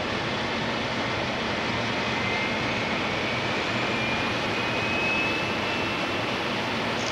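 Aircraft engine in Machine World 2 spinning up into a steady, loud jet-like roar with a broad whine, holding constant for the whole stretch with no talk over it.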